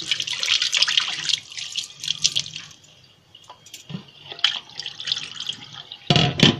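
Tap water runs and splashes as a new iron bhida pot, with milk cooked down in it, is rinsed. Irregular gushes and drips rise and fall, go briefly quiet midway, then end in a louder burst of splashing. No one speaks.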